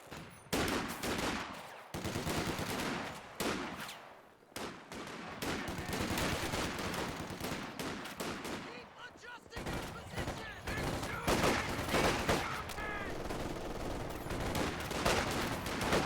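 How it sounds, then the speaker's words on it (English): Small arms gunfire crackles through a World War II strategy game battle, dense overlapping rifle and machine-gun bursts forming a continuous loud fusillade, with brief lulls and a voice calling out over the shooting. "Taking small arms fire!"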